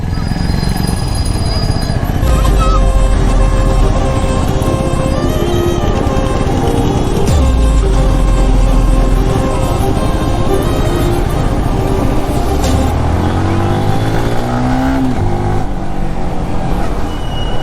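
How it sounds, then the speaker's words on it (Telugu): Heavy road traffic in hot Kurnool heard from a motorbike on the move: a loud, unbroken roar of engines and wind with blaring horn tones rising near the end. "ఏంట్రా బాబు ఇంత ట్రాఫిక్ ఉంది"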